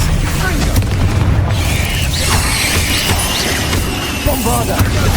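Spell effects in Hogwarts Legacy, with a dense, continuous roar of magical blasts, booms and crackling impacts filling the scene, loud and close, with shimmering whooshes layered over the rumble and no talk.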